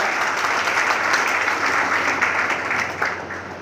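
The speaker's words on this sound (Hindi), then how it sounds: "एक बार जोरदार तालियां हो जाए।" Loud, sustained applause from a large crowd, continuous clapping that fades slightly toward the end.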